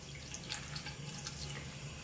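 Tap water runs steadily into a sink while makeup brushes are rinsed clean of soap, a continuous close splashing hiss with faint drips throughout.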